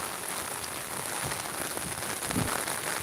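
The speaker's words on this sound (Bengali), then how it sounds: "দেখা যে বৃষ্টি অজরে বৃষ্টি ওর," Heavy, steady rain pours down during a flood beside the swollen Surma river in Sylhet, a dense continuous hiss close by with no voices.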